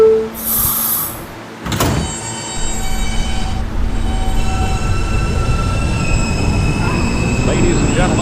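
A New York subway E train runs with a steady rumble and a sharp high squeal near the start, then continuous rolling noise and fainter wheel squeal through the rest.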